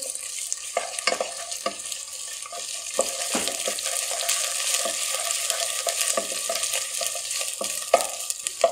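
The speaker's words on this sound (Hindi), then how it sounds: "अब हम इसमें डालेंगे अदरक का पेस्ट और इसको मिक्स करेंगे" Ginger paste stirred into onions fried light pink for chole, a steady close sizzle with repeated scraping strokes of a spoon against the pan, no talking.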